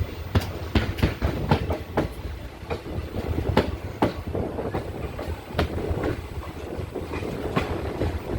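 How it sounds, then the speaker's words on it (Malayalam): A passenger train pulls away from Mararikulam station, wheels clacking over rail joints in a steady run of sharp knocks above a low continuous rumble, close and fairly loud with no talk. "ട്രെയിൻ അങ്ങനെ മാരാരിക്കുളത്ത് നിന്ന് എടുത്തിരിക്കുകയാണ്"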